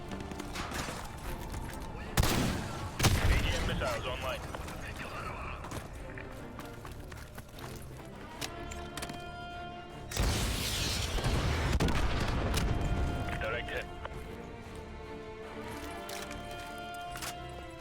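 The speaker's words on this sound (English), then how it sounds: "AGM missiles online." Bursts of gunfire and heavy booming explosions from AGM missile strikes in the video game Modern Warfare 2 Remastered, loud impacts near two-three and ten seconds over continuous battle noise, with a player talking at times.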